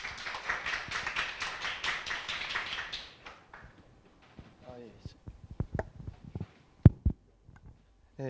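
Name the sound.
audience applause welcoming a speaker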